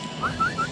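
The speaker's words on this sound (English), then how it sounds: "I'm going to be able to whistle on command here" A person whistles to call a dog named in the room during a live hockey broadcast, three short rising whistle notes at moderate level with a faint background hum.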